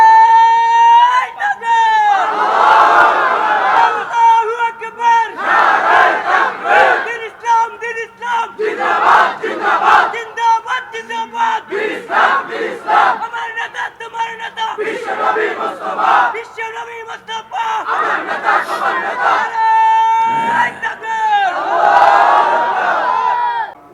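A large crowd at an Islamic sermon gathering shouts slogans together in loud, repeated bursts, voices rising and falling in waves across the whole stretch.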